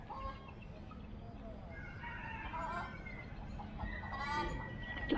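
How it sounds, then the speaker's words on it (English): Fluffy chickens cluck and chatter softly in Parque Marechal Carmona in Cascais, Portugal, with scattered short calls over a low outdoor background hum. "Fluffy chickens."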